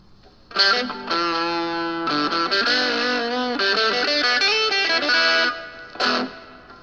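Distorted electric guitar played through an MXR 6-band EQ pedal set to cut hiss, sustained chords ringing loudly for several seconds with a brief struck chord near the end and a quiet, clean background.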